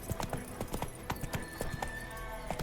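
Hooves galloping in The Witcher 3, a quick uneven clip-clop of a horse at speed, close and clear, with no talk.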